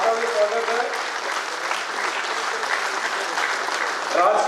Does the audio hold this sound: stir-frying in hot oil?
no